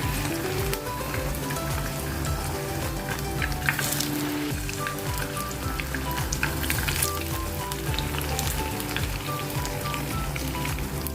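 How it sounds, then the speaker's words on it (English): Batter-coated marinated prawns deep fry in oil over a medium flame, a dense, continuous bubbling sizzle with crackling spatter, steady and close, with faint background music and no talk. "Dip the marinated prawns in batter and fry for 2 minutes"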